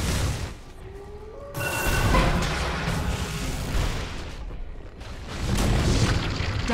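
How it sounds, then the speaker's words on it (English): A tower collapsing in Dota 2, heavy booming crashes and rumbling that rise after a quieter opening and come back in a second surge, with no voices. "Dire's bottom tower has fallen."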